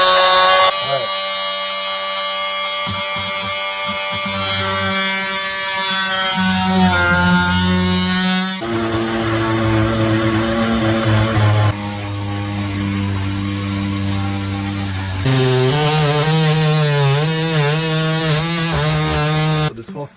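DEWALT 20V Max XR cordless oscillating multi-tool cutting into a wall panel, a loud close high-pitched buzz that starts and stops in several bursts, changing pitch as it bites into the material.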